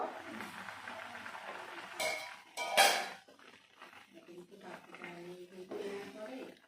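A metal lid lifts off a pan of vegetarian paneer curry with two sharp metallic clanks, followed by soft scraping and faint cooking sounds while someone talks.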